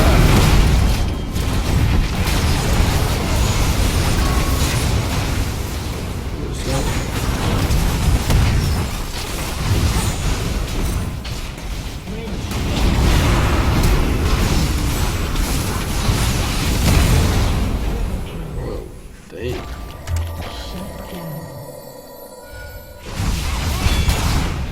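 A turret collapses in a League of Legends match amid heavy booming explosions and whooshing effects, a dense, loud wash of game sound that thins out briefly near the end.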